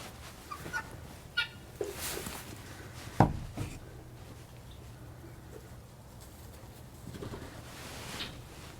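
Soft pigeon cooing in a quiet indoor space, with a few faint knocks and rustles scattered around it.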